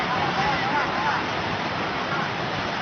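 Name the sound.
floodwater flowing out of the Terlangu village head's office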